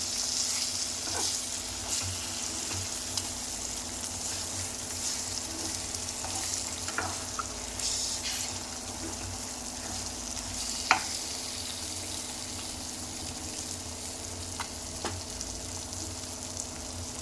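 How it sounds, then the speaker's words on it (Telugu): Potatoes frying with beaten eggs in a hot pan, a steady close sizzle that holds evenly throughout, with a few faint clicks of a utensil and no voices. "ఇప్పుడు దీంట్లో మనం ఇవి ఫ్రై చేసుకుందాం."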